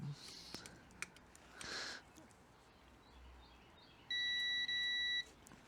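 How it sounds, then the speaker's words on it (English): A multimeter continuity tester sounds on wire leads soldered to small screws in a car brake fault check: two steady, loud electronic beeps in quick succession following a quiet room with faint handling noise. "Beeps."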